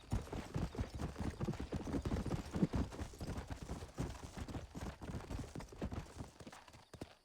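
Horse hooves clip-clop steadily in Red Dead Redemption, a close, even walking rhythm of many hoofbeats continuing throughout without a break.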